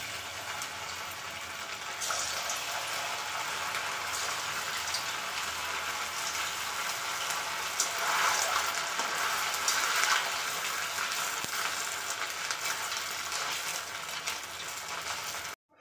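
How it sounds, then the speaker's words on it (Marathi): Rava and potato snacks fry in hot oil with a steady, close, crackling sizzle that holds at an even level throughout. The bubbling briefly swells near the middle, with no voices over it. "आता आपलं तेल गरम झालेलं आहे, आपण आता हे तळून घेऊया"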